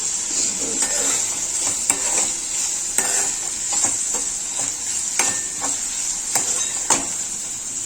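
Upma cooking in a pan, a steady close sizzle with repeated sharp taps and scrapes of a spoon against the metal at an irregular rhythm, and no voices.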